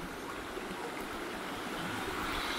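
River in Great Otway National Park near Skenes Creek flowing steadily, a soft continuous rushing wash of water, faint and unbroken, with no voices.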